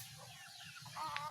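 A chicken clucks softly in a farmyard, giving a few short low calls that rise into a slightly louder note near the end, heard from a moderate distance over faint steady background noise.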